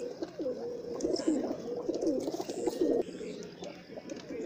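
Several high-flying pigeons coo in repeated soft, throaty rolling calls, close and fairly loud, overlapping in a continuous run without speech.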